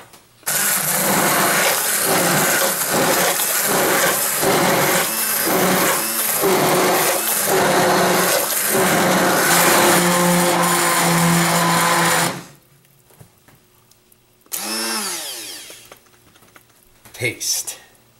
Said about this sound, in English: I'm going to use my little Cuisinart handheld blender to get those peppers fully incorporated.